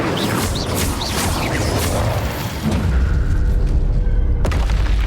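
A fire spell blast in Hogwarts Legacy, with a loud rumbling burst that grows into a deep, sustained roar and ends in a sharp crack, heavy and close.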